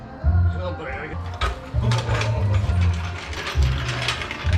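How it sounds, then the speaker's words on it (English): A car jack lowering a Toyota Soarer SC300 after lowering work on its rear suspension, giving repeated close mechanical ratcheting clicks and grinding bursts over a low hum. "Lower the jack."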